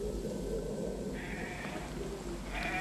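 A nomad flock of sheep and goats on the Chang Tang plateau in Ladakh bleats in a few short, fairly faint calls over constant outdoor wind and background noise.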